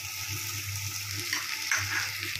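Chopped onions with ginger paste and slit green chillies frying in oil in a pan for a Bengali tilapia kalia, a steady close sizzle with a low hum and a brief stirring scrape.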